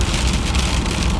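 Sleet and graupel pelting down in a lake-effect snowstorm with whiteout conditions in southwest Michigan: a loud, dense, steady hiss and patter of icy pellets striking surfaces close by, without a break.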